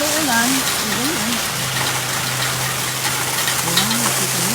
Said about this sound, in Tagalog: Tingnan nyo ang lakas ng ulan